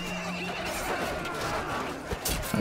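Horses whinny amid a video game battle with crossbows, javelins and shock troops, the neighs rising over a dense, steady din of combat and crowd noise.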